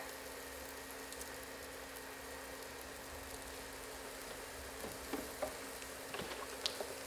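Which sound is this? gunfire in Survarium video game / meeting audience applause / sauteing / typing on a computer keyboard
sauteing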